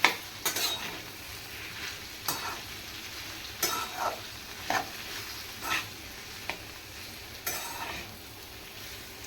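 A spoon works chili powder and coriander powder into bitter gourd sabji in a pan, making a series of evenly spaced scrapes and knocks against the metal over a faint low sizzle. No speech is heard.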